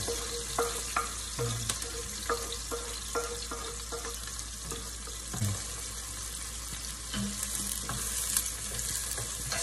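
Onion and garlic sizzle in a hot pan for chicken adobo, a steady close hiss of frying with scattered clinks and scraping from stirring, and no talk over it.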